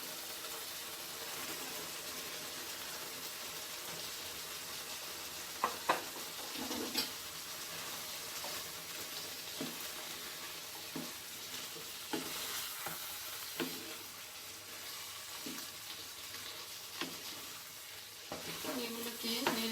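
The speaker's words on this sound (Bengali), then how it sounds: "এগুলোকে নেড়ে চেড়ে ভালো করে মিক্স করে দিতে হবে।" Boiled kidney beans (rajma), soaked overnight, being stirred in a frying pan: a steady low sizzle with scattered scraping taps of the spoon, close by and moderately quiet, no talking.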